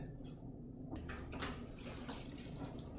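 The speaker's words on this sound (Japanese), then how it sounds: "全体的にお湯をかけて" Warm water poured over a winter-kept pitcher plant (Nepenthes) and its soil indoors, a soft, steady splashing and trickling that runs throughout at low level, with a voice speaking faintly beneath.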